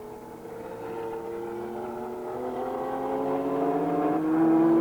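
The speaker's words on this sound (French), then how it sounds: "Hans Stuck tient le bon rythme, la Porsche domine de la tête et les épaules la série BPR." A Porsche race car in a BPR series endurance race at Francorchamps drones steadily past, its engine note rising gradually and growing louder as it nears, with no voices.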